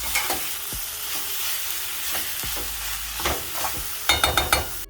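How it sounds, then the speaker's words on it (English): Smoked herring frying with seasonings in a pan until the liquid cooks off, a steady loud sizzle with occasional stirring scrapes and clinks of a utensil near the end. "allow your smoked herring to fry up with those seasonings until there's little to no residual liquid left"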